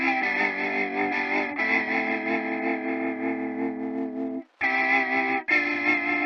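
Electric guitar run through a Waves Retro Fi vinyl emulation plugin with echo and a little reverb, playing sustained distorted chords alone with a brief gap near the end before strumming resumes.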